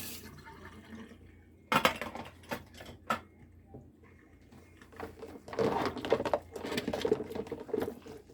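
Dishes, silverware and cast iron being washed in a kitchen sink, with running water patter and repeated clinks and knocks of utensils, busier toward the end, no talking.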